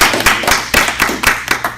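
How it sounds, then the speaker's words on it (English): An audience at a talk on lowering blood sugar and reversing type 2 diabetes gives a round of applause, with uneven claps that build into sharp bursts at a steady rhythm, fairly loud and close, with no talking over it. "Give him a round of applause."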